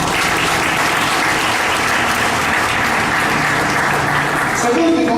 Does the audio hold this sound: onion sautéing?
no